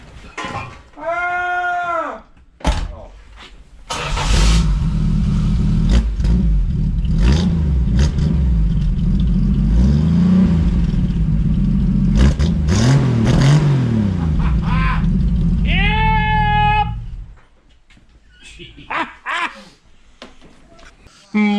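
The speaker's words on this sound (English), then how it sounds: "start it back up and rip a little bit. Start it back up. I want to hear an exhaust noise" A loud 1975 Plymouth Duster slant-six engine revs and roars with harsh exhaust rumble for about thirteen seconds, bracketed by brief animal bleats before and after.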